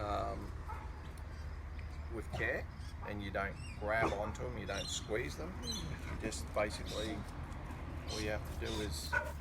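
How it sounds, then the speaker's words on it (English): A dog barks and yips in the background of a home setting, its short bursts scattered under steady close talking from a person handling a pet snake. "That's my dog going off at the moment."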